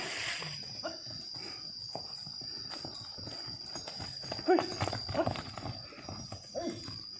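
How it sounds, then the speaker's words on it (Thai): Horse hooves clip-clop steadily during a horse ride at an equine therapy session, moderately close, with people talking in Thai over the ambient outdoor noise. "ไปดูขุนบัญชาขี่ม้านะครับ"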